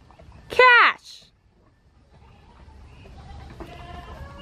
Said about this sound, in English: The goats keep getting out.